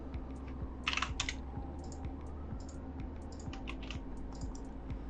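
Keys clatter on a computer keyboard as a modelling command is typed, with a quick burst of close keystrokes followed by scattered lighter taps over a steady low background hum.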